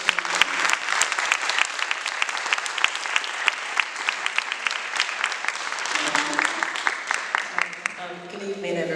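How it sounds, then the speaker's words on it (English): An audience claps through a book launch evening, a dense, sustained burst of applause from a room full of people that thins slightly near the end. "So I just want to applaud to her tonight."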